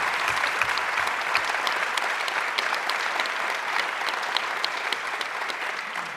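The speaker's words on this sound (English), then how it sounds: "Audience, let's give them a round of applause to the candidates for participating tonight." A full room claps for candidates at the close of a town council candidate forum, steady and even throughout with no voices over it.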